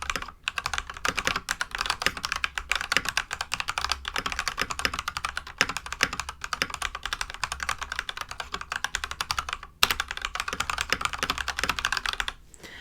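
A mechanical keyboard is typed on in a fast, dense run of crisp clicky keystrokes, close and steady with brief pauses, and no voices.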